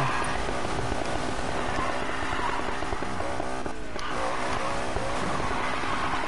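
A car in a video game drifts with a continuous engine roar and sustained tire squeal, loud and steady throughout, with no talking.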